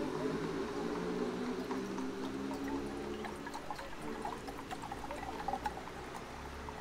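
Water pours steadily into the base reservoir of a coffee maker set up outdoors, a continuous close trickling splash with no talking.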